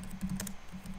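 A quick keyboard shortcut typed on a computer keyboard, a few soft close clicks of keys within about a second, with no voices.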